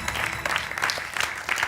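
Studio audience on a French game show breaks into applause, a brief burst of many hands clapping together, dense and lively.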